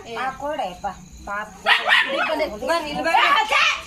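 A dog barks in short, sharp bursts close by while people talk over it.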